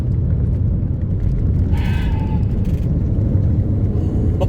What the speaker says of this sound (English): Listen to that. We've got an original OEM diverter valve on there now.